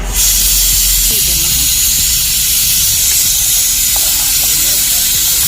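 Ghee rice sweetened with a little sugar boils hard in a pot, giving a loud, steady hiss of steam and bubbling that fills the whole stretch without a break.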